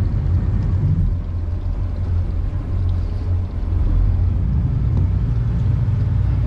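Twin outboard motors on a 2023 Seasport Kodiak 26 boat under a bit more throttle, a loud continuous low rumble and drone close by, steady with a brief dip, no talk.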